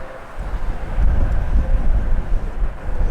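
Wind buffeting a handheld camera microphone beside a runway next to a bombing range, a steady low rumble that swells and gusts throughout.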